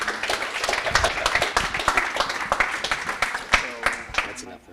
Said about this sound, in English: Come on, guys, give me an applause here.